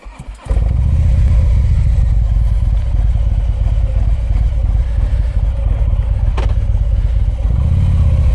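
A Harley-Davidson motorcycle engine catches after a brief quiet moment and then runs steadily at a loud, close, rumbling idle with a constant throb for several seconds, with nobody speaking.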